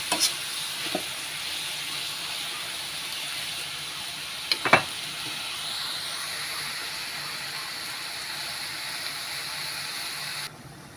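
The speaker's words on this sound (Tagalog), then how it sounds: "Kumukulo-kulo na." Sautéed string beans sizzle and bubble steadily in a pan, a constant hissing crackle with a few clinks of a utensil near the start and middle.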